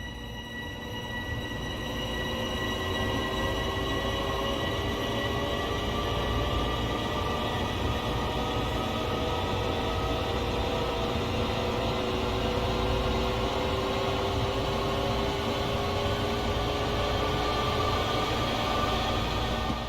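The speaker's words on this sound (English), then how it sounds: "You are currently riding an M7 electric multiple unit formed of 4 A and B coach pairs." Interior ride in an M7 electric multiple unit of the Long Island Rail Road in the Train Sim World 2 game: a steady, continuous rolling rumble with a droning electric whine and slowly shifting tones, unbroken throughout.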